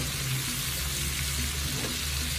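Asafoetida powder sizzling in hot oil for amla pickle, a steady close frying hiss with a low rumble, continuous and alone for the whole stretch.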